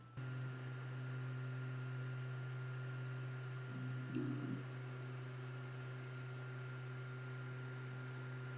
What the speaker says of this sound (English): the noise that's coming from it now is primarily that fan